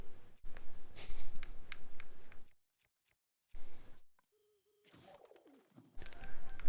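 Pigeons coo in Zelda: Breath of the Wild, a soft repeated game call heard in short bursts between stretches of quiet and other game sounds.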